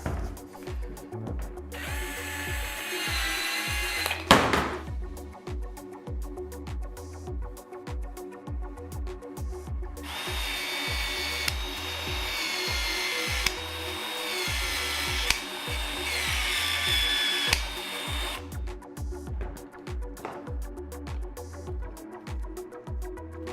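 A Milwaukee M18 VLD cordless power expansion tool expands the end of Uponor Q&E plastic pipe, 40 to 63 mm, giving a loud, steady motor whir with rhythmic mechanical pulsing and ratcheting cycles, close up and alone.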